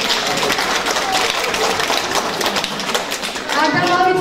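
Audience clapping at a presentation event in a Gori culture centre, a steady dense patter of many hands throughout with some crowd noise and a voice near the end.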